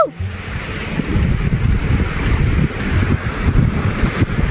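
A river flows through the Dhorpatan valley in Nepal, making a steady, loud broadband rush with wind buffeting the microphone throughout.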